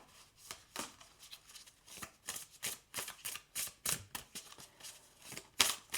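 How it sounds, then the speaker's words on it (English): Tarot cards are shuffled by hand in quick, irregular riffles and slaps, close and fairly soft, with short bursts of flicking and tapping continuing throughout and no talking. "Let's give it another shuffle"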